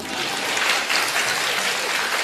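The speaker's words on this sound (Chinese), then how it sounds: "谢谢，谢谢您一个人的掌声啊" Audience applause at a crosstalk comedy show: a dense, steady burst of clapping from a live crowd that holds evenly for about two seconds, with no voices over it.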